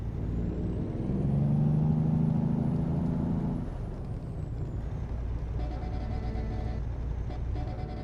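Truck in Euro Truck Simulator 2 idling with a steady low engine rumble, a strong tonal hum for a few seconds, then a softer running drone with a faint rising and falling whine overhead.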